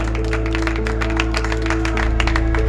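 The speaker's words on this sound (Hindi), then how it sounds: "हाँ, ताली बजाकर उस परमेश्वर को धन्यवाद करें।" A church congregation claps hands in praise to God during a Hindi-language worship service, a steady dense patter of many hands over a sustained low musical hum.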